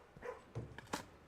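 Dogs in the game Blue Prince give a few short, faint barks and yips in quick succession, close but quiet, with no talking over them.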